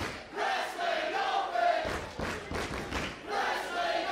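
A capacity crowd at an independent wrestling show in Worcester chants in unison, with loud rhythmic voices and stomping thumps filling the arena in repeated surges.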